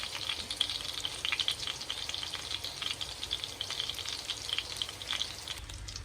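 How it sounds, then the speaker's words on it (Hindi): Chapli kebabs fry in hot oil in a pan with a steady, dense crackling sizzle, close and continuous throughout, with no voices. "तो फ्राई हो रहे हैं बड़े ही यमी डिलीशियस खुशबूदार चपली कबाब"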